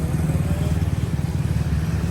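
A Scoopy 50 cc scooter stopped outside a 7-Eleven on a Thai island, its small engine running in a steady, close, loud low drone with a fine rapid pulse throughout and no voices.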